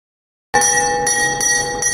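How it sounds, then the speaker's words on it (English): A bell at Fremantle Gaol rings out to announce the 12 o'clock viewing tour, starting abruptly after a moment of silence and sustaining a bright, ringing metallic tone with steady resonance, loud and close. "This is the bell for the 12 o'clock viewing time tour."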